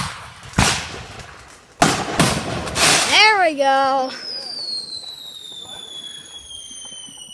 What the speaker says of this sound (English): my neighbors are freaking launching crazy freaking fireworks